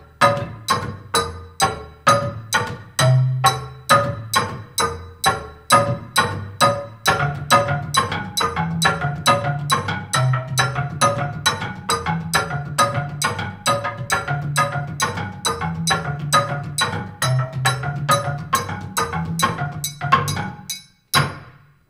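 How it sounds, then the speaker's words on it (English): Two interlocking parts on an embaire, the large log xylophone of Busoga, Uganda, with Omudumi and Omunene lines struck together in a fast, steady stream of bright wooden notes and a slower mixing line pulsing beneath, loud and close throughout. "the two parts combined sound like this"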